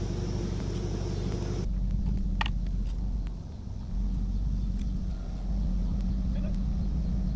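A C5 Corvette Z06 idles with a deep, steady engine rumble while reversing slowly out of a driveway, heard close with gusts of wind buffeting the microphone.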